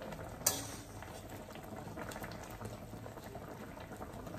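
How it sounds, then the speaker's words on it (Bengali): A pot of dal with garam masala simmers on a lowered gas flame, a steady low bubbling hiss that keeps going throughout, with one brief sharper clink near the start and no talking. "এবার একটুখানি ফুটবে বেশ কিছুক্ষণ"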